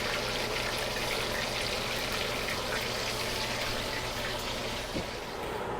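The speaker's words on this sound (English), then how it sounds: "I put some water." Water poured into dough while making cheburek, a steady continuous trickle and splash heard close up for several seconds with no talking.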